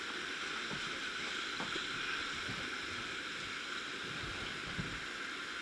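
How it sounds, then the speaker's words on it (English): Arkansas River rapids during a rafting run, a constant rushing, churning roar of water heard from within the flow, steady and fairly quiet, with no voices. "No, I just hear the rapids at the moment"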